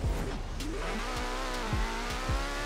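A car in Forza Horizon revs hard and launches off the line in a drag race, the clutch released so the engine note climbs steeply through quick upshifts, loud and close with no talk.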